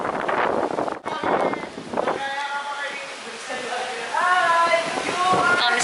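Wind gusts across the open outdoor deck of a cruise ship, a steady rushing roar buffeting the microphone while voices talk and sing over it.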